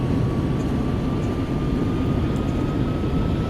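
A Boeing 767 airliner in a flight simulator game gives a constant, loud engine roar with a steady whine on top, unbroken and alone with no talking.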